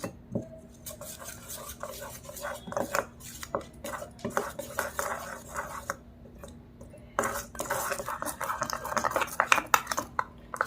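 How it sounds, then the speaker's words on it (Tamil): A spoon scrapes and clinks around a bowl, mixing rose powder with cow's milk into a face pack, in irregular bursts of close scraping with short pauses between them. "இப்போ இது கூட வந்து பசும்பால், ஸோ இது சேர்த்து நம்ம மிக்ஸ் பண்ணிக்கலாம்"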